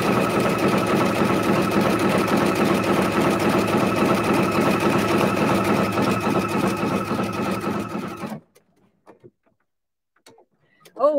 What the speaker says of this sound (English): I just did a triple stitch down the center.